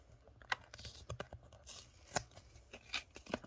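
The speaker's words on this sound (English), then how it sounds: "Peel this off." Protective film peeled off a trading card holder in a series of short, quiet crackling and tearing rips, close by with no talking.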